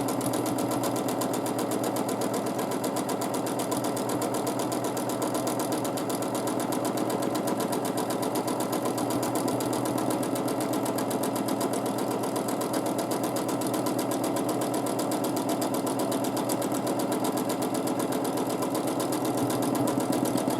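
A sewing machine quilts feather motifs, a steady mid-level hum with fast, even needle pulses that continue without pause for the full stretch and no talking.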